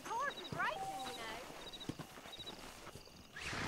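Horse walking in the video game Red Dead Redemption, with soft clip-clop hoofbeats heard intermittently beneath someone talking and game sounds.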